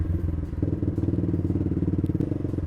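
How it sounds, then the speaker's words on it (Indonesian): A motorcycle with a loud aftermarket exhaust climbs a hill, its engine throbbing in a fast, steady pulse close by, with no voices over it. "Aduh kalau pakai knalpot kayak gitu lewat kampung-kampung kayak gak enak gitu guys."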